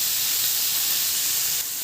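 Thin slices of brinjal fry in a pan with a steady, close, continuous hiss and sizzle, with no talk.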